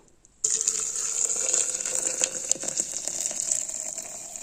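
Water for dandelion tea is poured into a small teapot, making a steady close splashing gush that starts abruptly and runs for about four seconds, with no talk.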